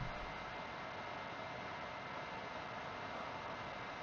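A steady, dense roar of an airplane cabin in flight during a cutscene in The Forest, broad and unbroken throughout with no speech.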